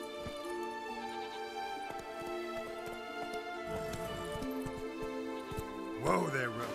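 Horse hooves clip-clop at an even walking pace over a sustained musical backdrop in the video game The Witcher 3, ending with a short burst of louder sound near the close.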